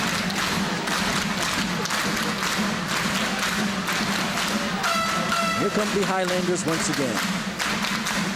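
Crowd at a high school basketball game between Rochester and Rochester Adams in a gym, steady roar of cheering and clapping with sneaker squeaks and a ball bouncing, under continuous play-by-play commentary.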